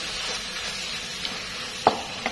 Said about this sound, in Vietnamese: Rồi mình sẽ xào lên.